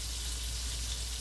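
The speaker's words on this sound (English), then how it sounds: "We just want to really give that meat time to sear." Beef slider patties searing in a hot pan give off a steady, dense sizzle, a constant hissing crackle at close range with no talking over it.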